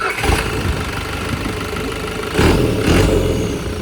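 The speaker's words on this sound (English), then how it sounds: "It's a Mitsubishi Lancer or Evo Turbo." A Mitsubishi Lancer Evo turbo engine rumbling loudly nearby, holding a rough steady drone before two quick throttle blips push it up into louder bursts.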